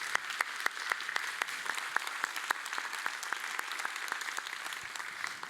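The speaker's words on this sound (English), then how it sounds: "if we can applaud the panel collectively for all of their contributions" A conference audience at an OECD local development forum gives the panel steady, sustained applause, a dense patter of claps with no speech over it.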